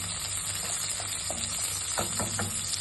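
Green chilli pieces fry in a pan for sabudana khichdi, a steady, close sizzle with a few soft stirring scrapes near the end.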